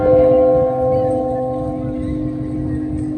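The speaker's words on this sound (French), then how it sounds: "Les cloches." Church bells ring in Rouen, sounding as steady sustained tones with a low hum beneath, a moderately loud, continuous peal over ambient room noise.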